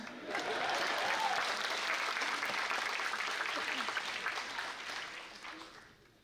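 Sustained applause fills a theatre at Gedung Kesenian Jakarta during a memorial tribute evening, steady dense clapping from a large audience that holds for several seconds and then slowly fades.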